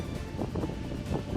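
Hurricane storm surge brings heavy waves and strong wind, heard as a dense, continuous roar of surf and gusting air with rumbling low-end buffeting, steady and loud throughout.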